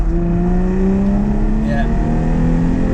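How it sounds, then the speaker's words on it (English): A Jaguar F-Type V6 accelerates, its engine note climbing in a steady, loud drone heard from inside the car, with faint road noise underneath. "Are we ready for a little bit of acceleration?"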